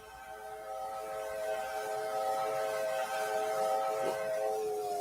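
A long, steady steam locomotive whistle from a video game sounds for about five seconds, a rich chord-like tone over a continuous background hiss, with no voices present.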